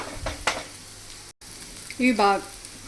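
Onions sizzling in a pan for a potato fry, a close, fairly soft hiss with a couple of stirring scrapes and a short break in the middle; brief voice sounds come through near the end.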